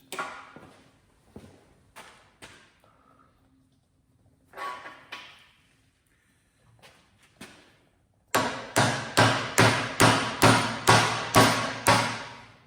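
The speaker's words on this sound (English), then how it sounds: "I'll probably end up using a dead blow hammer to get it started at least." A dead blow hammer strikes a suspension part on a 2011 Ford Mustang, first in a few scattered knocks, then in a fast, loud, evenly spaced run of heavy thuds close by.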